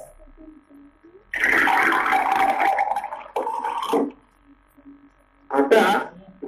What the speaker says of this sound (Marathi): मी या वाटीतील पाणी ग्लास मध्ये ओतते.